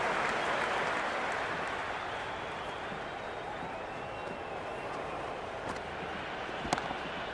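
Stadium crowd in the cricket video game Cricket 26, an IPL match between CSK and MI, keeps up a dense, continuous roar of cheering and applause throughout, slightly louder at the start, with a brief sharper burst near the end.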